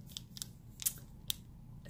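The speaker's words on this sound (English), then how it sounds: "Scissors, little baby travel scissors, so cute, with a scissor fob." Small travel scissors snip several times in quick, crisp, close-up clicks, each a short sharp metallic cut against a quiet background.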